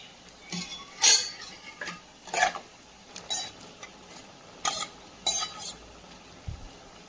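A spoon stirs white pumpkin sambar in a cooking pot, giving several short, light metallic scrapes and clinks spaced irregularly at close range, with no talking.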